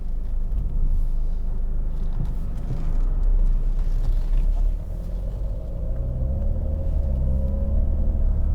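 A 2012 Jaguar XF 2.2 TD diesel saloon drives along with a steady low engine rumble and road noise from inside the cabin, the engine note rising slightly toward the end.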